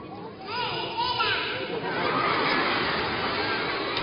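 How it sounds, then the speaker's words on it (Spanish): A devoted audience gives a sustained ovation to a performer on an Andalusian TV broadcast, a dense wash of clapping and crowd noise building and holding steady, with a voice over it at the start. "Y una vez más el ciclón de Jerez recibe la ovación de un público entregado."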